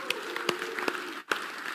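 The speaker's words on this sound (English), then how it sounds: "Give her a round of applause" Faint, sparse clapping from an audience welcoming a presenter named Selena, a few distinct claps spaced apart over a quiet room hum.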